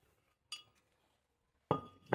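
A brake rotor coming off the hub of a Scion xB gives a short metallic clink, then a louder clatter of metal near the end after a quiet gap, with no talking.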